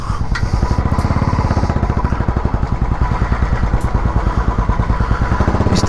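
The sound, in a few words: motorcycle being parked outside Decathlon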